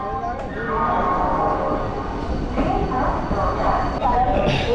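A local train stands at platform 14 of Howrah station, its rumble and hum filling a busy platform, with a crowd's voices and activity mixed in throughout.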